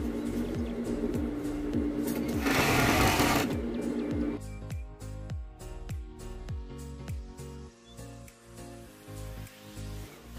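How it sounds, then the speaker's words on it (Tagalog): Overlock sewing machine stitching the edge of a fitted sheet, a rapid rhythmic mechanical chatter running throughout, with a louder burst of whirring near the start before settling into steady stitching. "overlock machine. Para matanggal niya ito."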